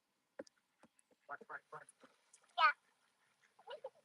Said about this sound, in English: I think every duck in the river's out this morning.